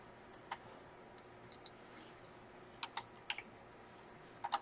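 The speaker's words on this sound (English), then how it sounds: "So I'm going to go ahead and type cat." Keystrokes on a computer keyboard as a word is typed, a few sparse, light clicks spaced irregularly over a faint background hush, with no voices.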